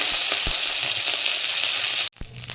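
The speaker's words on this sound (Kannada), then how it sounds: "ಕರಿಬೇವು ಫ್ರೈ ಆಗಿದೆ," Curry leaves frying in hot oil, a loud, dense and steady sizzle that cuts off abruptly near the end, followed by a softer crackle.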